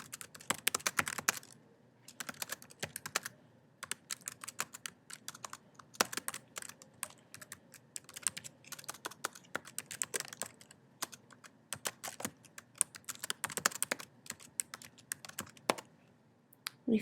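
Quiet, irregular keyboard typing with bursts of rapid key clicks and short pauses, close and alone without any voices.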